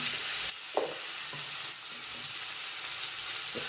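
Spices with ginger-garlic paste sizzle steadily in a hot pan, with the soft scrape of stirring, for a Shimla mirchi aloo sabzi, close and continuous without talk.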